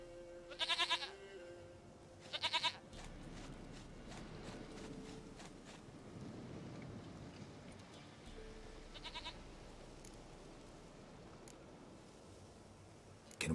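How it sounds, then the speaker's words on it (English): A goat bleats in The Witcher 3 video game, three distinct bleats spaced across the stretch, loud against a low steady ambient bed with faint footstep-like clatter. "Goat of mine, dearest,"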